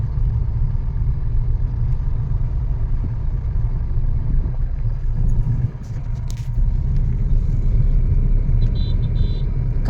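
A car drives through light traffic on a road, its engine and tyre rumble steady and fairly loud throughout, with a brief dip partway through and faint rattles above.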